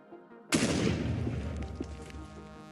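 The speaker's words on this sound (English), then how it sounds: "From the first explosion, we see the damage is about a 2 to 3 block radius." A single TNT block explodes in Minecraft: a sudden loud blast cuts in after a quiet start, then decays into a rumbling, crackling tail.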